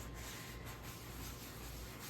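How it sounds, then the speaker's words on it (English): Steady abrasive rubbing, a continuous dry scratchy friction sound of sandpaper worked over a vegetable-tanned leather planner cover, close and unbroken with no talking. "I know I'm probably damaging the leather by sanding it"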